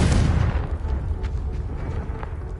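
A single booming Confringo blasting-spell explosion in Hogwarts Legacy, loud and close with a rumbling low-end tail that fades over a couple of seconds.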